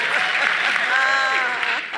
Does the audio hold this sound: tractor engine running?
no